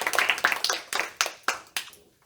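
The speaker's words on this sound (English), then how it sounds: "please give a big round of applause to Toastmaster Nur" Applause from a small audience at a Toastmasters club meeting after an icebreaker speech, a few scattered claps spaced out and fading, close and modest in volume.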